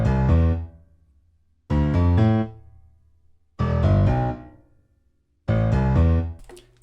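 Two layered pianos striking four thick, full chords at steady intervals, each with a quick rhythmic flourish before decaying into short silences, played alone.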